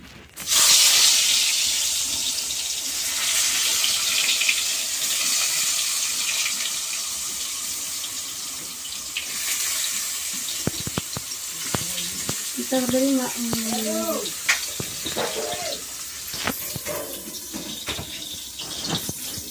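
Food, such as banana fritters, fries in white oil on a gas stove, giving a steady, close sizzling hiss with occasional clinks of utensils stirring and handling later on.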